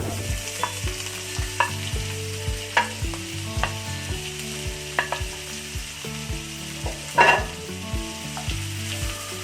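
Onions sauté in butter in a pan with a soft continuous sizzle, punctuated by regular scraping clicks of a spoon stirring, close and moderate in level, with no speech, while making paneer butter masala.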